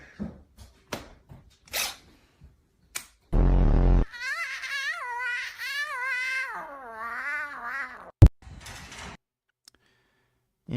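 A cat meows and caterwauls in long, wavering, drawn-out yowls through the middle of the clip, between scattered clicks and knocks; there is no talking.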